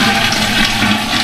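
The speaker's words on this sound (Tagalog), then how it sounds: "mukhang okay naman yung flush nila" A hotel toilet in Cebu flushes with a loud, close, continuous rush of water throughout, with no voices.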